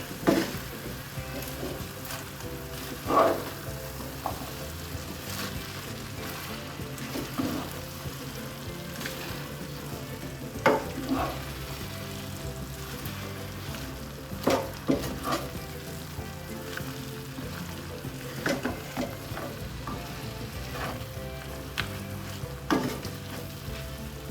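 Cabbage masala frying in a pan, with a steady close sizzle and intermittent scraping stirs from a spoon throughout, no voices.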